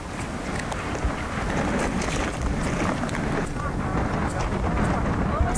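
Swirling wind in freezing cold, twenty degrees below zero, blowing as a steady, loud broadband roar with gusty buffeting that holds for the whole stretch.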